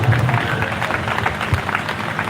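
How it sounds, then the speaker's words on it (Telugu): Steady applause from an audience, a dense wash of clapping that holds at an even level throughout. "వారు వస్తుండగా చప్పట్లు కొట్టి ప్రేమతో వారిని ఆహ్వానం"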